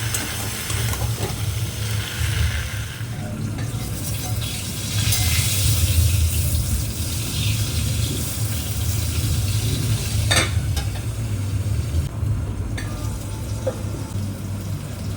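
Jackfruit and prawns sauté in spice masala, a loud continuous sizzle and fry with stirring and scraping running throughout, close to the pan and without talking.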